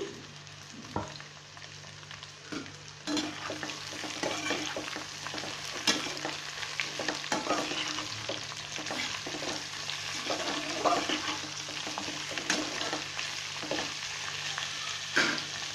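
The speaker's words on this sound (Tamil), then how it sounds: "இப்போ நம்ம கட் பண்ணி வச்சுருக்கிற கோவக்காய் இதில் சேர்த்துடலாம்." Half a kilo of chopped ivy gourd stir-frying in a pan for poriyal, a continuous hissing sizzle with frequent spoon scrapes and knocks in loose rhythm, close and fairly quiet, no voices.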